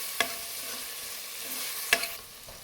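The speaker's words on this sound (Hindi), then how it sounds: "अनियन डाल सॉल्ट डाल के इसको अच्छे से मिक्स कर लेंगे" Chopped onions with salt stirred and sautéed in a pan, a soft steady sizzle broken by a couple of sharp spatula clicks against the pan.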